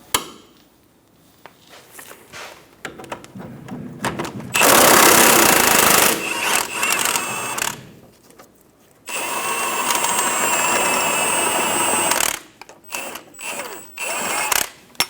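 Loose rattling impact wrench or air tool bursts working the shock nut and bolt off the lower forward control arm of a 2003-2007 Honda Accord, two long loud runs with short quieter taps and clatter between.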